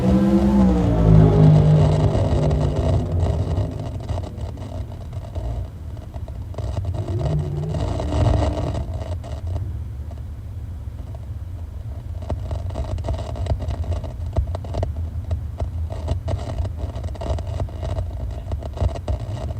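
Drag racing cars at Tucson Dragway: a loud engine burst in the opening seconds gives way to a sustained rumble and whine of racing cars, with wind buffeting the microphone.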